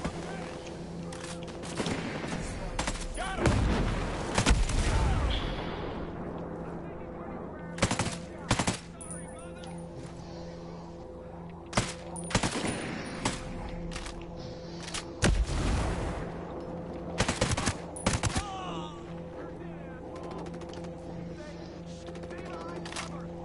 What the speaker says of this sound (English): Oh fuck, mortar.